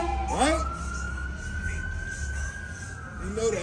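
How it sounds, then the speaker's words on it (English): Ambulance siren passing by outdoors: a long, steady wailing tone that rises and holds, moderately distant, under a constant background rumble. "the ambulance ride past"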